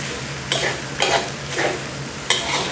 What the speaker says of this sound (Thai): ผัดสักครู่หนึ่งก่อนนะครับ ให้คะน้าเริ่มสลดก่อนครับ